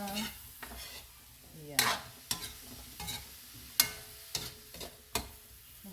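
Squash stirred in a pan while vegetables cook for a sautéed dish with blue marlin: intermittent scraping and clacking of a spoon against the pan over a soft sizzle, close by, with a brief spoken word.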